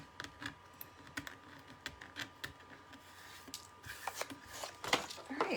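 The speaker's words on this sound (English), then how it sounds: "All right, that's our die cutting." A manual die cutting machine pushes a card die through in one pass on a crafting table, giving a string of sharp clicks and ticks that build into louder, denser crunching and grinding near the end.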